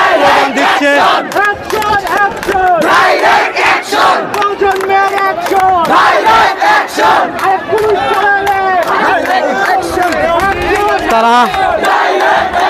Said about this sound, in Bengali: সাধারণ ছাত্ররা স্লোগান দিচ্ছে